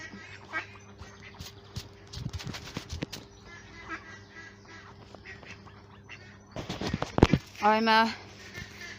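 Ducks quacking in a park during a lunch stop on a charity walk, a short, loud burst of close quacks near the end, with some background noise and voices earlier.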